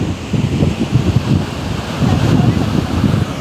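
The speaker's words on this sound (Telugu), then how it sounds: "చూసారా ఎంత బాగా వస్తున్నాయో నీళ్ళు" Water gushing and churning steadily, a continuous rushing wash with some wind buffeting the microphone, rising slightly in the second half.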